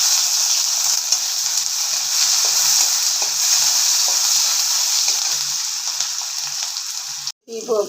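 Chopped onion, garlic and green chilli fry in a pan with a loud, dense, continuous sizzle that stays close and even, breaking off briefly just before the end.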